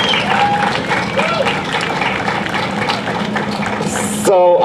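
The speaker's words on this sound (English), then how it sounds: "Let's give a round of applause for the San Juan family" Audience applause at a Filipino community Philippine Weekend event in 2019, greeting three generations of a family named as Grand Marshals; steady clapping and crowd noise run throughout, with a voice over a loudspeaker near the end.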